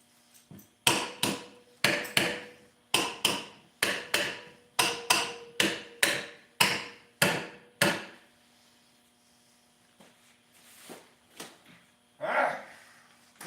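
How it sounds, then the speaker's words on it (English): A rubber hammer taps on engine cylinder head parts from a budget LS head rebuild, about fifteen sharp, close, evenly spaced knocks, then a few scattered softer bumps and handling sounds. "I'll take the rubber hammer and give them all a little bump."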